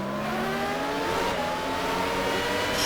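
A 1996 Formula 1 car in the Automobilista sim mod at Albert Park, its high-pitched engine revving hard and climbing steadily through the gears, loud and continuous with no talk over it.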